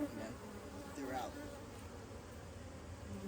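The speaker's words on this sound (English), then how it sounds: "A lot of bees." Honeybees swarm and buzz steadily at an opened hive during a split, a dense close hum filling the air with no voices.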